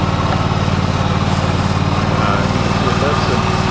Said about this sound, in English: Okay, we have the tractor running. It takes two hands to start a Kawasaki engine.